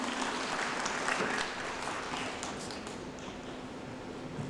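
Audience applauding at a county day commemoration ceremony, steady dense clapping from a crowd that holds at an even level throughout.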